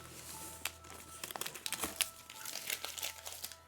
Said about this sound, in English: I've got a garbage bag next to me. If you hear a lot of rustling, that's what that is.